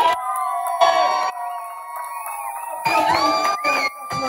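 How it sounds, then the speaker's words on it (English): A crowd cheers and whoops in loud bursts with brief gaps between, high excited voices rising together. "you lot are going to make as much noise as you can if you liked Baby Spice"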